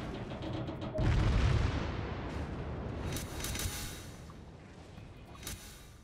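Battleship secondary guns in World of Warships open up with a deep booming blast followed by rolling, fading rumble and a few quieter distant reports.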